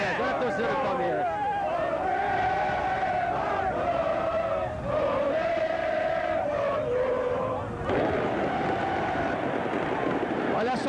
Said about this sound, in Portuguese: Olha a torcida do Palmeiras.